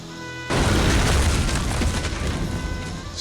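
A grenade blast in the Total Overdose video game bursts in loudly after a half-second of quiet, a heavy boom whose broad rumbling roar fills the rest of the clip, with no voices over it.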